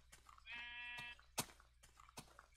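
A sheep in a Minecraft-style survival game gives a single clear bleat lasting about half a second, followed by a few quiet clicks and taps in an otherwise calm scene.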